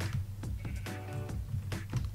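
Sheep bleating in a crafting video game, several short repeated bleats in an irregular rhythm, fairly close and clear with no talk over them.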